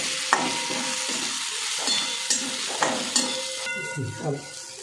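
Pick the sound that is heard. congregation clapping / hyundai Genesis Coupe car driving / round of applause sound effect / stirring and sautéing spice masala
stirring and sautéing spice masala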